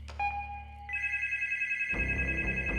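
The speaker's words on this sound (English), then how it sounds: "The phone rang again." Telephone ringing as a sound effect in a narrated urban legend story about a babysitter, a bright electronic ring with steady tones, fairly loud and alone.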